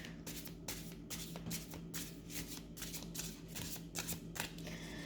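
A tarot card deck is shuffled by hand in quick, repeated riffling bursts that crackle close up, a rapid, uneven run of card flicks with no speech.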